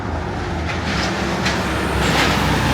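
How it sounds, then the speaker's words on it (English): A heavy truck rumbles steadily through a small Illinois river town's downtown, a loud, continuous low engine and road roar that swells slightly toward the end, with no talking over it. "Woo, another noisy truck."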